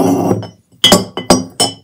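A metal wrench set into a glass sauce jar, giving three sharp clinks of metal on glass in quick succession, close and clear, after a brief rustle of handling.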